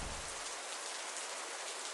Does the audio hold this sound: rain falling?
yes